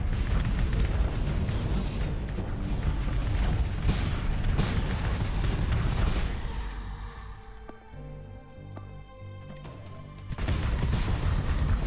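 In the space combat game Starsector, heavy booming ship explosions roll continuously for several seconds during a fleet battle against Remnant ships, then fade to scattered crackles before another deep blast returns.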